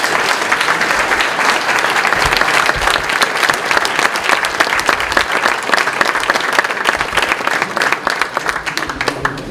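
Loud, sustained applause from a large audience at a mayor's New Year wishes ceremony in Saint-Guyomard, dense steady clapping filling the whole stretch without letting up.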